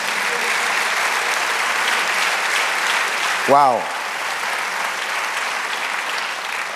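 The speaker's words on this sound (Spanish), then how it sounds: "Dale aplauso al Señor" A church congregation applauds during a sermon: steady, dense clapping fills the room throughout, and one voice briefly calls out midway.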